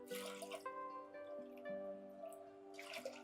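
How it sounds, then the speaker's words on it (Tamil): Water poured from a cup into a pressure cooker while making crispy instant murukku, a steady splashing trickle with dripping tones, close and continuous for a few seconds. "அதே கப்பில் மூணு கப்பு தண்ணி ஊற்றிக்கோங்க"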